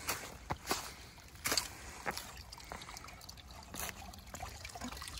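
Water trickling from a pipe spring beside a mountain trail, a steady faint outdoor trickle broken by a few louder splashes and knocks, with no talking.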